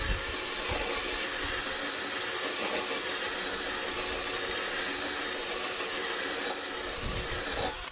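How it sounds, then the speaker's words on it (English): A lawn mower blade edge is sharpened with a power grinder, producing a steady loud whooshing, grinding roar close by for the whole stretch, with no speech. "And you want to start sharpening the edge."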